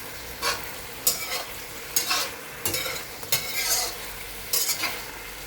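Carp belly and tofu stir-fried with cooking wine in a pan, a sizzle with repeated bursts of spatula scraping and stirring, close and clear, no voices.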